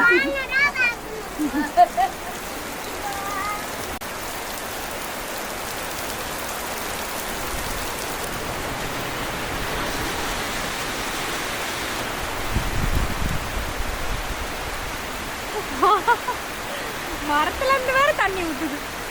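Steady rain pours down in a dense, even hiss, with occasional brief voices and birdlike chirps breaking through near the start and end.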